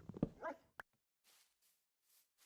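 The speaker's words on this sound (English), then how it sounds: "I hear a fucking dog bark?" A dog gives a single short bark, quiet and somewhat distant, followed by a sharp click and a few faint, soft rustling sounds in an otherwise quiet room.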